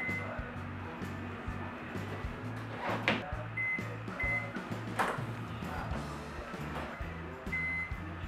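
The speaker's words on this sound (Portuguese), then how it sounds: "a gente vai levar por 30 segundos no micro-ondas" Microwave oven running while melting chopped chocolate, a low pulsing hum with rhythmic on-off cycling, plus a few faint clicks and beeps over several seconds.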